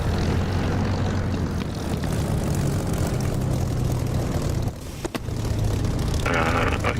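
Steady, loud propeller aircraft engine droning in the DCS flight simulator, holding an even roar throughout with a brief dip midway.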